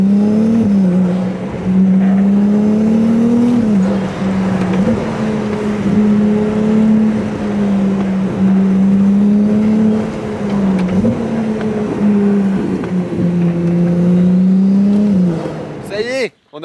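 Ferrari 296 GTS engine revving at mid-range on a small road, a loud steady drone that rises and falls gently with a few throttle swells, close and continuous until it cuts off at the end.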